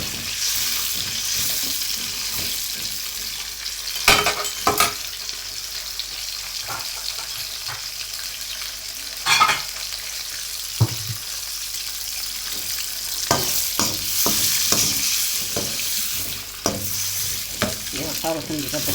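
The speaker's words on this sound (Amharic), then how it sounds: "ካሮት እንዲጠበስ ነው" Carrots frying in a pan for an Ethiopian green bean dish, a steady sizzle with irregular stirring scrapes and a few louder clanks, close and without talk.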